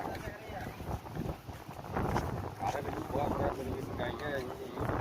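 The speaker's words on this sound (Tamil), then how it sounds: "சரியான காற்றும் தண்ணியும் அடிக்குதுல அதனால கொஞ்சம் மங்கலா இருக்கு" Strong wind and water spray buffet the microphone in rough, gusty bursts at a fish auction, with a voice speaking over the noise.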